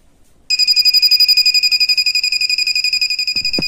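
A Sunshine digital multimeter held near a live electrical board emits a loud, continuous high-pitched electronic beep in rapid pulses, starting abruptly after a moment of quiet and sounding alone.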